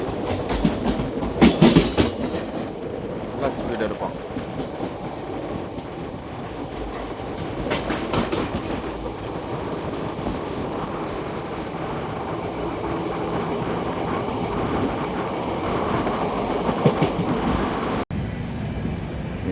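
An express train, likely the West Coast Express, rumbles past on the Salem–Erode line in India with steady clickety-clack of wheels over rail joints, loud and close, the noise sustained for a long stretch.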